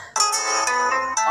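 A phone rings loudly with an incoming normal call, a bright electronic ringtone pulsing in short repeated tones, close and alone.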